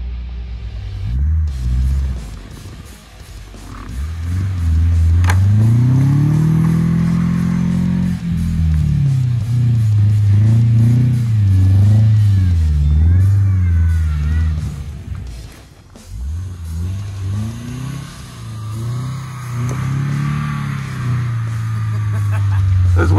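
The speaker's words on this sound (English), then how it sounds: "we're gonna see how well a Subaru works as a snowplow" A Subaru car plows through about two feet of deep snow in a driveway, its engine rumbling loudly and steadily with rising and falling revs, close by, without speech.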